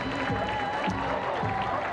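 A live crowd applauds at an international show jumping Grand Prix in Madrid. The clapping is moderate and diffuse, with commentary speech over it.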